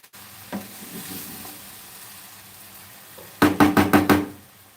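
A spatula stirs food in a pan over a faint background sizzle, with a quick burst of five or six knocking scrapes against the metal near the end.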